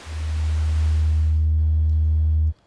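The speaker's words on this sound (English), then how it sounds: "it's going to generate a sine wave" A steady low synthesized sine-wave tone from an SP-404 sampler hums on alone at a constant pitch, then cuts off abruptly.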